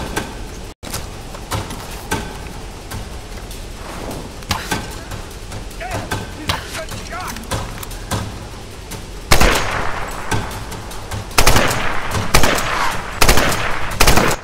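Gunfire in the video game Tomb Raider Definitive Edition: quick, repeated shots, each sharp and close, become louder, denser volleys in the second half, with a voice talking between them.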